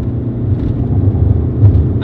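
A car engine held at full throttle while accelerating toward about 60 mph in third gear, a steady loud low drone throughout, with a voice talking over it.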